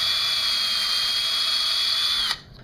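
A high-pitched power drill with a 1/4 inch bit runs steadily while widening the string holes on a guitar, loud and close, then cuts off abruptly near the end.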